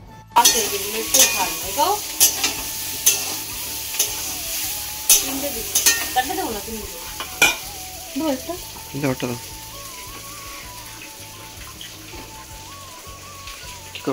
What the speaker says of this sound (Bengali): নতুন হাঁড়ি কড়াইতে রান্না করছি